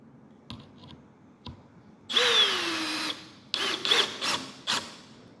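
A power drill with its clutch set drives a #6, 1 1/4-inch screw, starting with a few light clicks and taps. Then come close whirring bursts that rise in pitch, and short final spins as the clutch slips and snugs the screw down.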